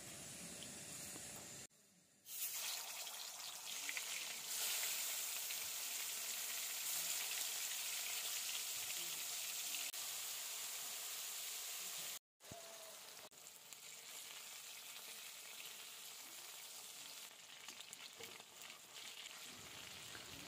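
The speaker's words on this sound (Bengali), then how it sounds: "ভাজা হয়েছে কি না এটা ভালোভাবে ভাজতে লাগবে" Pieces of khatla fish frying in hot oil in a kadai make a loud, dense, continuous sizzle with crackling. There is one brief dropout near the middle, and no one speaks.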